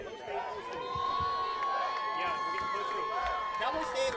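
A college football crowd in the stands cheers and claps through a big third down, a steady swell of voices with a whistle-like tone running through it and announcer speech over the top.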